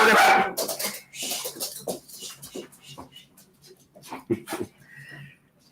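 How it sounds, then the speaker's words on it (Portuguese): Dogs bark and whimper in short, scattered bursts, some close and loud, others fainter, mixed with breathing and brief pauses, with no one talking. "Cachorro pra todo lado."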